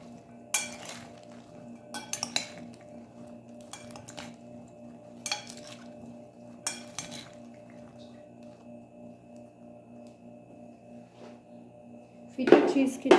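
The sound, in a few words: mixing Greek salad ingredients in a bowl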